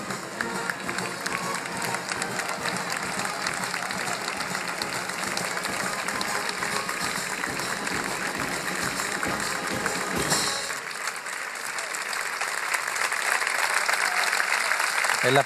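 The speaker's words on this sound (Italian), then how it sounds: "E l'applauso di Piazza di Siena, l'applauso del Capo dello Stato, l'applauso dell'Italia intera ai carabinieri" A large crowd at Piazza di Siena applauds the carabinieri during their historic equestrian display, with dense sustained clapping that fills the open space, alongside a commentator's voice and distant bustle.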